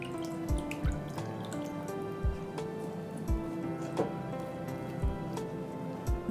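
Water drips and splashes in a bowl of cold water while roasted capsicum is peeled by hand, giving scattered soft plops and trickles at close range, quiet and irregular.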